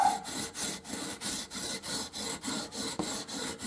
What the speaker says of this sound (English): we're going to take our leveling beam, which just has a little bit of really smooth sandpaper on it, and we're just going to go across here a little bit, just back and forth